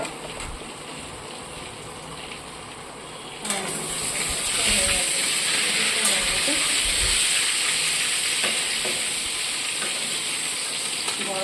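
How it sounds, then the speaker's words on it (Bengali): Pointed gourd (potol) slices fry in a pan, a quiet background at first, then a louder, steady hissing sizzle that swells and holds with occasional clinks. "দেখি এদিকে পটলটা ভাজা হলো কিনা"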